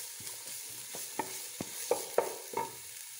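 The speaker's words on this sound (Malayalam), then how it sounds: "ഇതിലേക്ക് കുറച്ച് ഉപ്പിട്ടിളക്കി ക്യാരറ്റിട്ട് ഇളക്കണം." Carrots with salt are stirred in a frying pan, a soft sizzle broken by several sharp spatula scrapes and taps against the pan.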